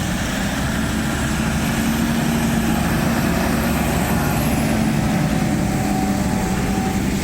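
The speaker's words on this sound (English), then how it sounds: "And we've got a tractor, big tractor." A big tractor engine runs steadily and loudly throughout, a continuous low droning rumble with no breaks and no talking.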